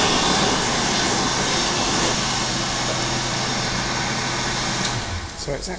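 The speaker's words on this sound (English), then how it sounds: "So it's actually a well dryer." A silver World Dryer electric hand dryer roars with a continuous, loud airflow and a low motor hum, fading slightly as it winds down toward the end.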